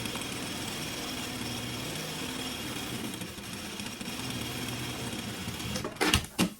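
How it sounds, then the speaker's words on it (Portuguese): A sewing machine stitches steadily through fabric for a sublimated maternity kit, a continuous close whirring run that ends with a few sharp clicks and knocks. "eu já posso vir fechando e costurando, pregando todo o meu material"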